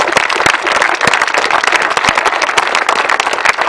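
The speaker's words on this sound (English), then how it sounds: "I just want a round of applause to everyone in the club" Crowd applause for the club at a grasstrack motorcycle meeting in Lincolnshire, close and loud with distinct individual claps standing out from the steady clapping of a smaller outdoor gathering.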